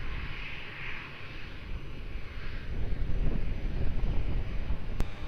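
A jet airliner rolls down runway 02 at Lisbon Airport for takeoff, its engine roar building from a distant whine to a louder, rumbling thrust mixed with gusty wind on the microphone.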